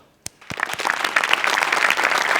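After a couple of sharp single claps, an audience breaks into full applause for a team's stage performance, building quickly and holding loud and continuous to the end.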